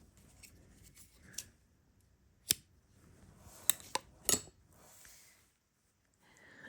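Scissors cut crochet yarn while finishing a magic circle, giving a few sharp, separate snips against a quiet background.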